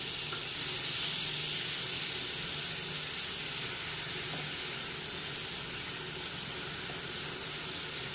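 Spice paste of cumin, chilli and turmeric fries in a pan for a thin hilsa fish curry, giving a loud, steady, close sizzle and hiss that runs without a break.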